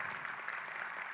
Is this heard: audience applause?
yes